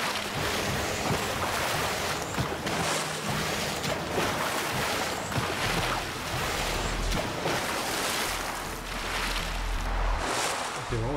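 A waterfall in the Ratchet and Clank video game pours in a continuous broad rushing wash, steady and fairly loud throughout, with some low rumbling underneath.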